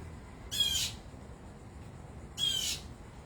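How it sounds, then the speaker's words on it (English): Two harsh, raspy squawks sound from birds in a garden, spaced about two seconds apart and moderately near, over a quiet outdoor background. "Now, there are birds here in this garden"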